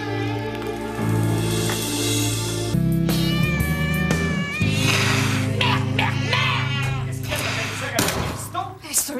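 A black cat named Méphisto meows and yowls repeatedly, loud and close, with drawn-out cries over a mix of voices and a few thumps.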